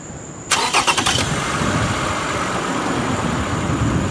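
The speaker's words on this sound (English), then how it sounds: "And now it says, start engine." A car engine cranks in a quick burst of rhythmic turns and catches, then settles into a steady idle during a battery cranking test with an OBDII scan tool and battery tester; no one speaks.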